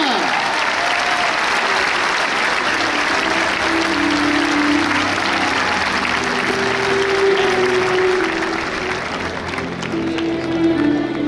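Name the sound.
crowd applause for raseteur at course camarguaise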